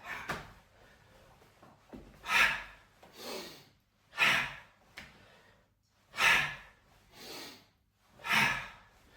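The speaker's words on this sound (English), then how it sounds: "And then we exhale through the mouth." Breath pushed out through the mouth during a qi gong pump exercise, repeating as five strong, breathy exhalations at roughly two-second intervals, close and loud with quiet pauses between, no talking.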